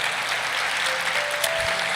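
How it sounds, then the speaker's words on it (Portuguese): A church congregation claps together in steady, dense applause, a full roomful of hands sounding evenly throughout with no voices over it. "Dá um aplauso para o Senhor"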